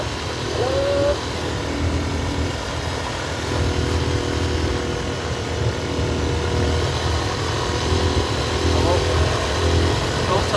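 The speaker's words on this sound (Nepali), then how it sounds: "यहाँ बाइक हाम्रो टोप सरले चलाउँदै हुनुहुन्छ" Motorcycle engine running steadily on a mountain road in Mustang on the way to Muktinath Temple, a continuous close droning hum with road and wind noise throughout.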